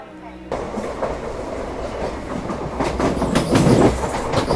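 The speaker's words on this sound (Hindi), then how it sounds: "और ये इस रूट पर चलने वाली एक और important train number 12934 Karnavati express." Karnavati Express train, number 12934 on the Mumbai–Ahmedabad route, rumbling past close by with loud rhythmic wheel clatter that swells toward the end, a faint voice audible beneath.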